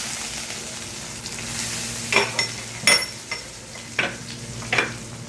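Whole black pepper, cumin and cinnamon crackling in hot oil for a Bengali fish head muri ghonto: a steady soft sizzle broken by several sharp pops and spits, close up, with no talk.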